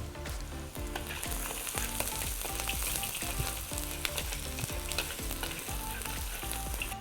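Onions and green chillies frying in a hot pan for a bottle gourd bharta, giving a loud, dense, continuous sizzle with steady crackling pops and regular stirring clatter, close up with no talk.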